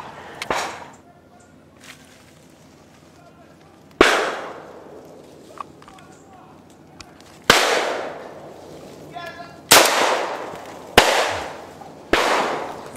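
Shotguns fired while bird hunting in North Andros, several loud sharp blasts a few seconds apart, each ringing out with a decaying echo, with people talking quietly between shots.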